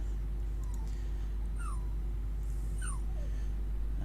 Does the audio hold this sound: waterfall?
no